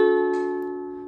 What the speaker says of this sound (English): And then the 4th and final chord in this song is a D,